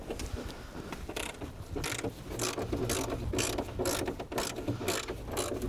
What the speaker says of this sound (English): I need to get a socket on it, don't worry.